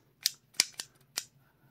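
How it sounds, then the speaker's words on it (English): Several sharp mechanical clicks come from the trigger of an Altor 9mm pistol, four quick faint snaps spaced unevenly over under two seconds in a quiet room. "Hold the gun and you pull the trigger,"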